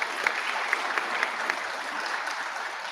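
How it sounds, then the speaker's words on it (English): Audience at a regional science and engineering fair for juniors breaks into steady applause, many hands clapping in a dense, even wash at moderate distance with a few sharper claps standing out. "Round of applause for them."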